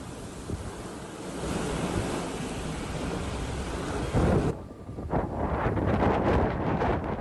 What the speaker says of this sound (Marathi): काल संध्याकाळी अचानक जोरदार वारे सुरू झाले